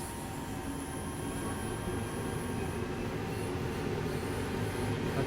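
A 200 series TGV high-speed train from Train Sim World 2 runs along the LGV Méditerranée, with a continuous dense rumble and hiss of motion and a faint high whine, and no voices.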